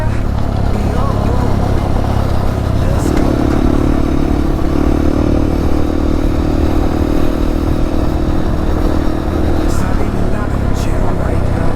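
A motorcycle engine runs steadily just after an oil change with Ineos oil, loud and close throughout, with a sustained revving tone through the middle and voices talking over it.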